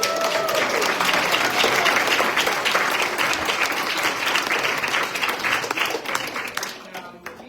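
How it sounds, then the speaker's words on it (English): Sustained audience applause at a council meeting, dense steady clapping from a crowd that runs throughout and gradually thins toward the end, with some voices mixed in. "Clap it up."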